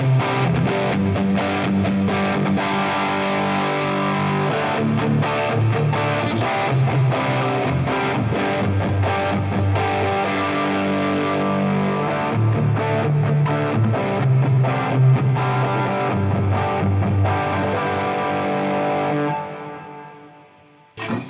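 Heavily distorted electric guitar played through a Line 6 Helix with no high cut and no reverb or delay, strummed chords ringing loud and steady for about nineteen seconds before cutting off, with a brief final hit.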